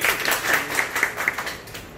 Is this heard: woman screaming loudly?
no